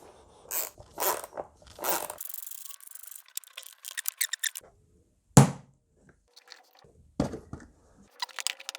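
Plastic clips on a Volkswagen GTE air filter housing are pried and snapped open by hand, making a string of sharp close clicks, rattles and scraping rubs separated by short silences.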